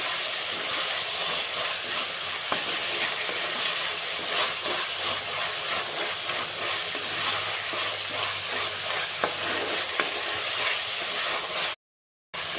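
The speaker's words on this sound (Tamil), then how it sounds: "தக்காளி நல்லா வதங்கிருச்சு" Tomatoes sautéing in a pan for a spicy kara kuzhambu with drumstick, brinjal and coconut milk: a steady broadband sizzle with soft hiss and occasional stirring scrapes, close and continuous, with no talking.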